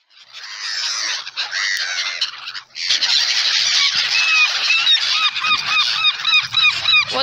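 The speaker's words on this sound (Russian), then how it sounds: "сразу такой ор этих чаек, он может даже напугать" Seagulls scream and squawk in a loud, continuous chorus of harsh cries. The flock sounds close, with overlapping calls at first, then a run of repeated rising yelps in the second half and no one talking.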